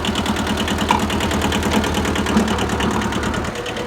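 An old Japanese Kubota B6000 compact tractor engine runs steadily nearby, a loud, even diesel chug with a rapid knocking pulse that holds constant throughout, with no talk over it.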